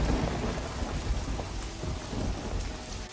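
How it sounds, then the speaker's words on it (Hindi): Heavy rain pours steadily while thunder rumbles low and continuously through a stormy sky, with no voices present. "अचानक आसमान में बिजली कड़कने लगती है और भयंकर बारिश शुरू हो जाती है।"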